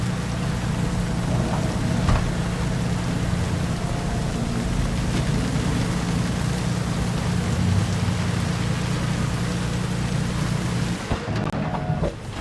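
Steady, heavy rain falls in the Cyberpunk 2077 game world, a dense continuous hiss of drops on surfaces with a low rumble beneath, lasting unbroken without any talking.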